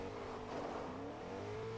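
A truck drives in Fortnite Season 6 during a trios tournament, its engine a steady, fairly loud hum with a rising rev, close and continuous with no talk.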